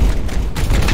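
Gunfire erupts in the turn-based video game Warhammer 40k: Chaos Gate - Daemonhunters, a loud, dense burst of booming shots and rumbling impacts filling a single second.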